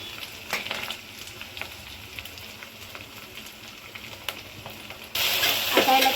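Vegetables with spring onion and a chili, ginger and garlic paste sizzle steadily in a pan while being mixed, a soft continuous frying hiss with occasional spoon taps, growing louder and brighter toward the end.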